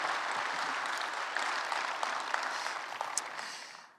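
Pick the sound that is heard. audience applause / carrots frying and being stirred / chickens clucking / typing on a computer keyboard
audience applause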